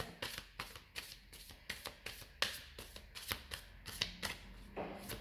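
Tarot cards shuffled by hand to clear the deck, a rapid series of crisp riffling bursts and soft slaps, close and fairly quiet, with no talking.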